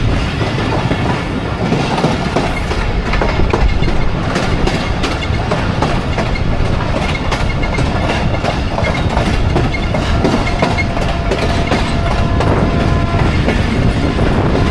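A Thal Express passenger train runs on after pulling out of Mianwali station, its wheels beating a steady loud clickety-clack over the rails with continuous rumbling carriage noise and no talk.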